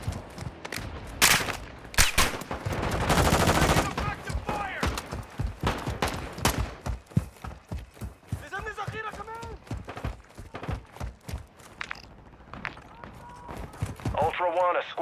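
Bursts of automatic gunfire and single shots in Call of Duty Warzone DMZ on Al Mazrah, loud and rapid, mixed with running footsteps while a radio-style voice speaks.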